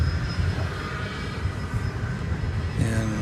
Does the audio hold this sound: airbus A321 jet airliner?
yes